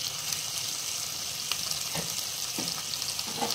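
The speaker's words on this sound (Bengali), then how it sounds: "এটা এখন আমি ভালো করে এখন কষে নিচ্ছি।" A ginger, garlic and onion paste with turmeric, chilli and cumin powders and salt sizzles steadily in a pan, with a few clinks and scrapes of stirring breaking through the constant frying hiss.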